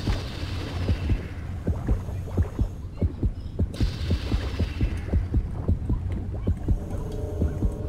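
A soft, steady throbbing heartbeat from a video game pulses under a low droning hum, very quiet and rhythmic throughout.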